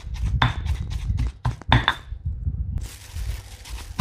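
Shrimp chili paste is pounded in a mortar. Several close, irregular knocks and clinks come in quick bursts, then a short pause, then a steady mid-level clatter continues.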